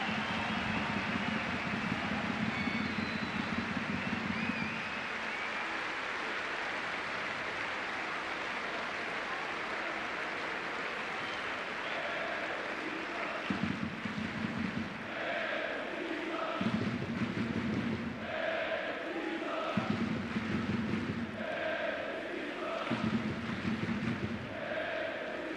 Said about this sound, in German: Aber davor Applaus für den Präsidenten